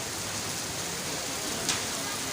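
Heavy monsoon-season rain pours steadily in Taxila, a dense, even hiss of drops on surfaces filling the whole clip with no pauses or talk.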